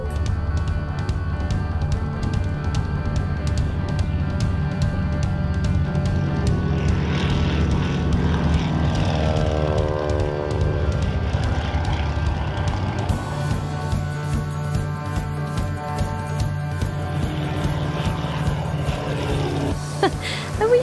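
A propeller aircraft taking off, its engine droning loudly and steadily, rising and shifting in pitch as it builds power, heard from close by for the whole stretch.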